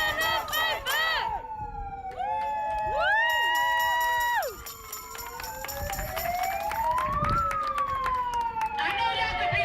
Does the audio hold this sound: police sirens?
yes